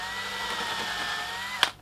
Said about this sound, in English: then drill for screws